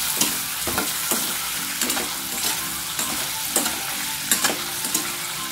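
Cubes of paneer fry in oil as they are stirred, a constant close sizzle broken by regular scraping and clacking strokes of the spoon, with no voices.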